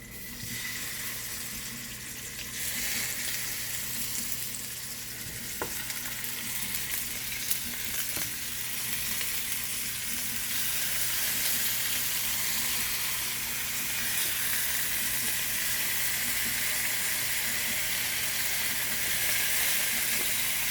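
Chicken pieces fry in hot oil in a pan, a steady loud sizzle that builds slightly and holds for the whole stretch, with a faint clink or two and no talking.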